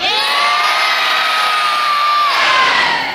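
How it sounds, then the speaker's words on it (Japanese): A large audience at the Universal Monster Live Rock and Roll Show at Universal Studios Japan shouts and cheers together in one loud, sustained roar, with a rising yell near the end. "この中で大声出してえやつ叫び声に自信のあるやつちょっと叫んでみなせーの"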